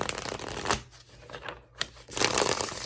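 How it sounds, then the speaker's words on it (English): Tarot cards being shuffled in quick riffling bursts, with a short pause in the middle before a louder flurry, close by and without talking. "Oh, Charles heard me shuffling and wants to come in"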